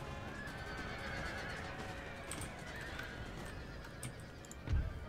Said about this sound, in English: Cavalry charge.